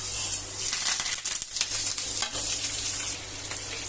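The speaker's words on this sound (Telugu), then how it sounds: "పోపు వేగుతుంది, వేగాక వేసేయాలి" Tempering of dried chillies, cumin, mustard seeds, urad dal and curry leaves frying in hot oil makes a loud, dense, continuous sizzle and crackle close by, with no voices.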